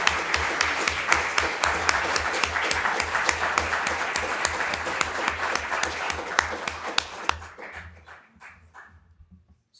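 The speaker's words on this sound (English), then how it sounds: "And a big round of applause to our two debaters, US experts here." Audience applause for two debaters at a reception on US midterm elections, steady loud clapping from a crowded room that tapers off near the end.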